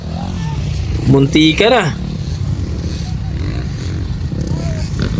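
250cc racing motorcycles at a racetrack scream past in a short, loud burst of rising and falling engine whine, set against steady crowd noise and a voice talking.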